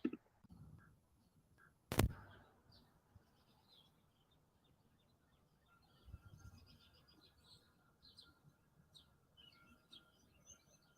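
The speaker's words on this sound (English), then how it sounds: "did you hear the birds chirping?" Faint bird chirps scattered through a quiet outdoor scene, with a sharp knock partway in and soft rustling in the background.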